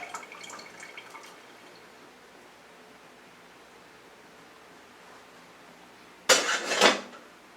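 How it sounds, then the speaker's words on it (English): Fat is poured and strained off cooked meat for spaghetti sauce, a short close splashing pour near the end after a long stretch of quiet with faint clinks at the start. "strain off the fat"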